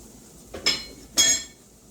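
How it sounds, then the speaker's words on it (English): Metal whisk strikes a pan twice in quick succession while flour is worked into hot oil, bright clinking taps close by against a quiet kitchen background. "I'm going to go ahead and dump this in. And I'm going to whisk that together."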